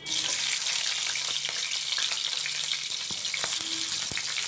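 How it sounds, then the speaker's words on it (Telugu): Cumin seeds frying in hot oil in a pot for a chicken dish, giving a steady, bright, close sizzle with scattered crackles and pops throughout and no talking. "నూనె వేడయ్యాక 4 టేబుల్ స్పూన్ జీలకర్ర వేసుకోవాలి"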